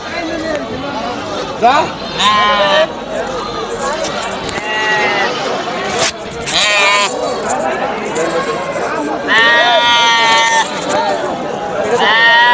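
At a busy weekly goat market, goats bleat repeatedly in wavering cries, some close and loud, over a constant crowd chatter and people talking nearby.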